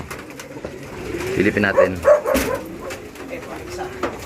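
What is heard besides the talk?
pigeons cooing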